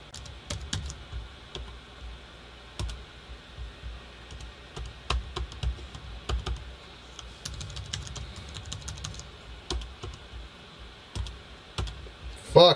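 Computer keyboard typing with rapid, irregular key clicks and bursts of presses, close and fairly quiet, continuing throughout with no talking.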